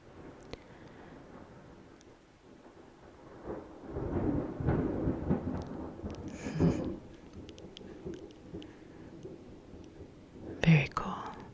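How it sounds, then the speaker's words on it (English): An approaching thunderstorm rolls in with deep rumbles of thunder that swell through the middle and return as a sharper crack near the end, beneath soft whispered speech and faint rain. "I think the storm's getting closer."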